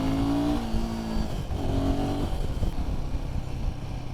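A Royal Enfield Himalayan 450 motorcycle rides in second gear. Its engine gives a steady, loud close drone from the rider's position, with the pitch rising slightly as it pulls, and no talking.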